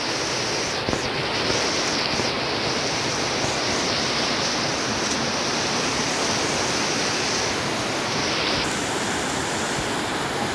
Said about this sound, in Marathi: हे बघा एकदम स्वच्छ पाणी आहे नदीला